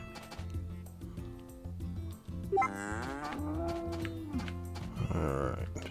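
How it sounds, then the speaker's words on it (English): Cartoonish cow moos from the farm sim Story of Seasons: A Wonderful Life, two drawn-out lowing calls with rising and falling pitch over a steady background music loop, fairly close and clear. "Let's talk to my cow."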